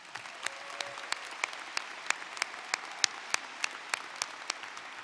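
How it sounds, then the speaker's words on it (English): At a 2017 high school graduation, a large audience applauds from a distance, a soft, even wash of clapping with a few sharper individual claps standing out at regular intervals. "Let's give them all a round of applause."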